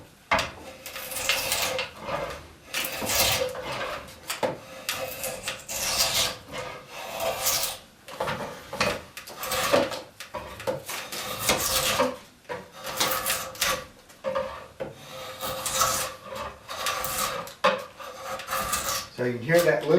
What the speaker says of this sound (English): you can hear that little bit of splitting because there's wood fibers built up